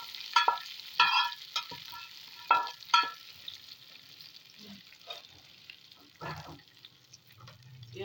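Browned onion tadka poured into a pot of beef haleem, sharp bursts of sizzling and crackling frying at the start, then fading into softer bubbling and stirring sounds, close and moderately loud.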